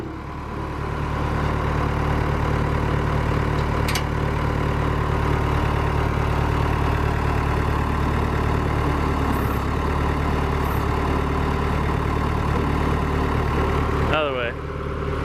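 A 1990 truck with a Cummins diesel engine runs at a steady, rumbling idle close by and stays constant throughout, with brief faint clatters near the end.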